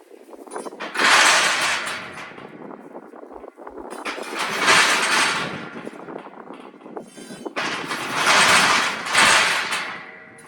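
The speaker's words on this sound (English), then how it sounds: "So I'll get the crowbar and just push that across." A crowbar pushes a metal roll wheel along its track on a cattle crush, giving three long, loud grinding scrapes separated by brief quieter gaps, with no talk.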